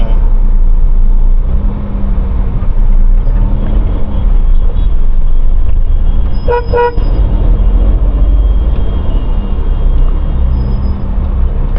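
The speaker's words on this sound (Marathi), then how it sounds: "लय दिवसांनी ट्रॅफिक लागली हो" Busy road traffic around an Alto 800 petrol car in Pune, with a steady low rumble of engines and a couple of short vehicle horn toots in the middle, fairly close and loud.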